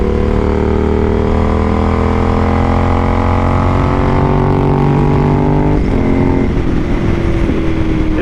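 A Suzuki SV1000S motorcycle engine with a new exhaust idles loudly and close by, a steady low rumble with a slight shift in pitch toward the end.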